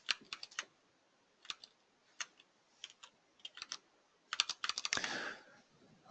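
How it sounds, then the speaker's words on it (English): Keystrokes on a computer keyboard come in quick bursts and scattered single clicks, close and crisp, ending in a denser flurry of typing with no voices. "I did a little bit of typing off screen in order to do that properly"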